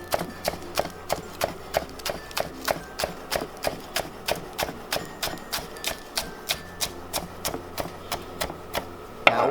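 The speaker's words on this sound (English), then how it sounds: "Chop it." Fresh oregano is chopped with a kitchen knife on a board: a steady run of about two dozen quick, evenly spaced chops, close and crisp, with no voices.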